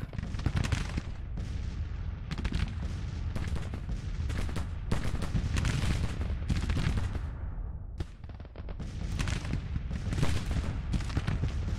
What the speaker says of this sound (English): Cannons are just unloading on them.